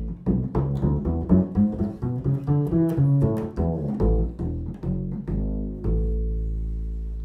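Upright bass plugged into an electric bass amplifier with every setting flat plays a run of plucked notes, loud and close, with round boomy low tones and a final note left ringing and fading.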